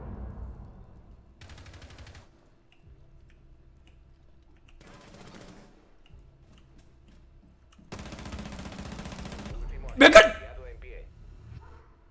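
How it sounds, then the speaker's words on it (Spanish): Gunfire in the tactical shooter Rainbow Six Siege, faint distant bursts of automatic fire recurring, then a louder sustained volley ending in one sharp close shot, all quiet and sparse between. "Vale, ese está disparando."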